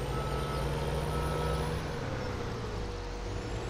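A truck's reversing alarm in a farming game beeps steadily and repeatedly over a constant, loud engine drone, with no talking.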